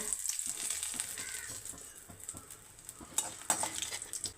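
Urad dal, dried red chillies and curry leaves crackling in hot oil for a papaya thoran, a close sizzle with spattering pops and spoon-against-pan stirring scrapes, growing busier toward the end.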